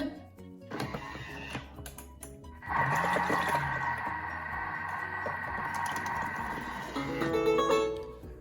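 A Thermomix running at speed 2 while heating water to 37 degrees, its motor whirring steadily with a sustained mechanical drone after some clicks and handling noises, close and fairly loud.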